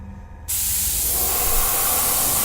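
Compressed air from a compressor blows to dry fresh paint on a Chewbacca figure's lip, starting abruptly after a brief quiet moment and continuing as a loud, steady close-up hiss.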